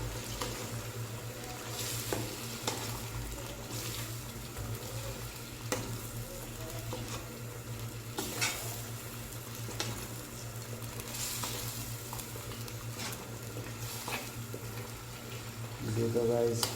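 White chicken cooks down in yogurt water in a pan, with a steady close sizzle and bubbling and intermittent stirring scrapes running throughout.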